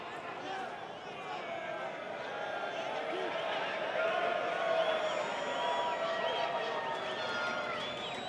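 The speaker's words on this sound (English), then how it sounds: "Crowd getting into it now." Soccer crowd at a stadium for San Antonio FC against Colorado Springs Switchbacks FC, a steady distant roar of voices swelling slightly, with commentators talking over it.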